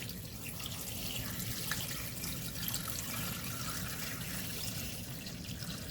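Tap water runs steadily into a container, a continuous close rushing trickle with no voices.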